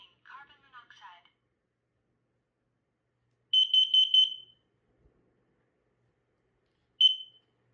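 A Kidde KN-COSM-BA combination smoke and carbon monoxide alarm sounds a piercing electronic beep, a rapid run of four pulses and then a single beep after a pause, preceded by a brief electronic voice.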